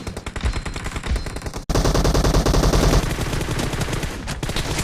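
Rapid automatic gunfire from PUBG Mobile training mode, loud sustained bursts broken by a brief gap and then resuming in a fast, even rattle with no talk over it.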